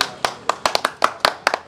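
A small group in a talk-show studio clapping: about ten sharp, close claps in a loose, uneven rhythm, over in under two seconds.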